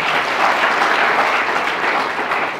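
An audience at a college's state-level debate competition claps steadily to welcome a guest, a dense, loud wash of applause that fills the whole moment.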